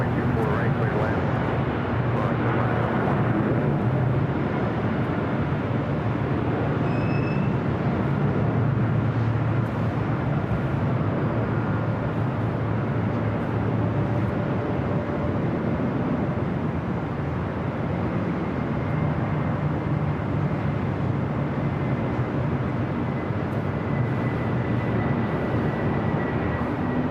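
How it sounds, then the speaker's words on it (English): Boeing 747-8 Intercontinental passenger jets taking off from the south side runways at LAX, a steady, broad roar of jet engines rumbling continuously at a distance, with voices talking over it. "747-8 Intercontinental passenger planes taking off on the south side here today"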